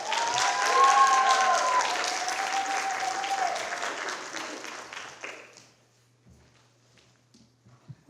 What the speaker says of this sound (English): Another round of applause for Miklos, please.